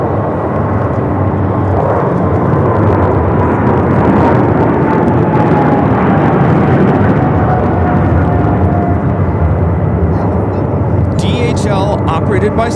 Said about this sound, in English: Also a Singapore 777 freighter rolling down at 25 left.